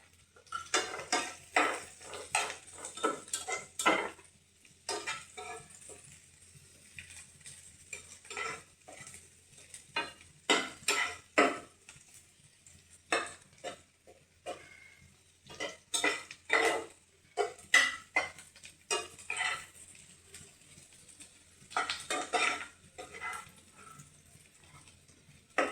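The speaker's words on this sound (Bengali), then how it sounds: "একটু পেঁয়াজটা একটু ভাজা ভাজা হোক।" Chopped onions frying in a pan on raised heat, stirred with repeated bursts of metal scraping and clatter against the pan; the faint sizzle stays in the background between strokes.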